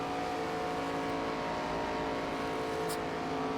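Race cars roar around the track in the NASCAR 25 video game, a steady, close engine drone that stays level without breaks and plays alone.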